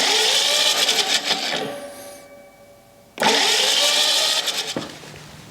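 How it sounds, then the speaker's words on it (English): An old, rusty engine unused for 25 years, spark plugs out and choke open, cranks over in two loud mechanical bursts separated by a quieter pause, each a steady whirring churn. "I'm going to crank it a few times with the choke open, so we get some fuel at least inside the cylinders"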